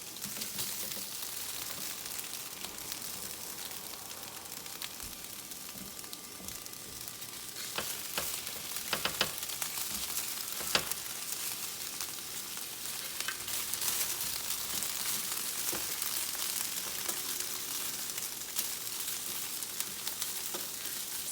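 Onion and large chiles fry in a pan with a loud, steady sizzle and crackle that runs without a break, broken by a few sharp clicks and clatters, and no voices.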